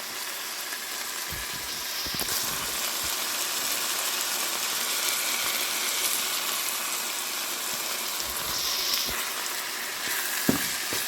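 Crêpe filling seasoned with pepper, salt and saffron coloring frying in a pan, a steady close sizzle and crackle running throughout with a few light clinks of stirring.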